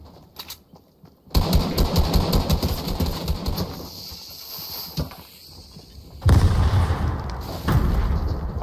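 Firecracker explosions in the video game Fortnite: a sharp blast opens a dense run of crackling, popping bursts that fade, then a second loud flurry of cracks and booms, with no voices.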